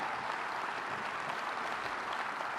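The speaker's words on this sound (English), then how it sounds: "Let's give them a big round of applause." An audience applauds five companies awarded pilot funding, a steady wash of clapping that holds at an even, moderately distant level for the whole stretch.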